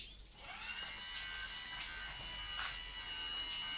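A homemade garage door opener mechanism powered by a 12 V battery runs in one steady, fairly quiet motor whine with a high mechanical hum, continuous for several seconds with no talking.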